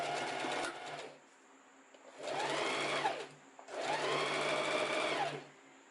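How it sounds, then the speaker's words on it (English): Sewing machine stitching a summer top, three close whirring bursts of rapid needle action with short pauses between, for forward and back stitches. "every time when we start sewing, we do some front stitches and then some back stitches"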